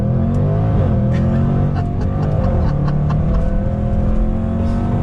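A 2020 Jaguar F-Pace SVR engine pulls hard, revving and rising in pitch as it accelerates through twisty roads, with steady road and wind noise underneath, loud and close.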